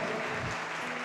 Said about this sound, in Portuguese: Levante as suas duas mãos assim e aplauda o Senhor